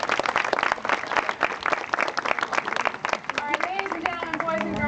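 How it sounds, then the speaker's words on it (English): Spectators at a live cheetah animal presentation clap in an uneven, lively round of applause, with voices talking over it toward the end. "so give her a nice round of applause"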